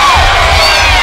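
A crowd roars and cheers at a Christian academy wrestling show, a dense, sustained wall of shouting voices with high whoops and children's yells rising through it.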